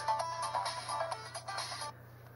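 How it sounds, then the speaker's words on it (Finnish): A mobile phone ringtone plays a bright, repeating electronic melody at close range for about two seconds, then cuts off abruptly into quiet room tone. "Taas on koko päivän puhelimet soinut."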